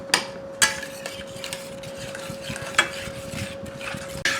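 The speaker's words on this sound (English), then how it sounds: "we're going to stir it until it starts to thicken up a little bit, and all of the butter melts" Steak bites in garlic butter sauce stirred in a pan: a few sharp utensil scrapes against the pan stand out over a low, steady sizzle, close and moderately loud, with no talking.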